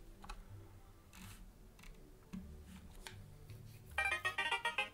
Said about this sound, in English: Shut up, phone!